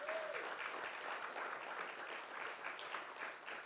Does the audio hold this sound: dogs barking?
no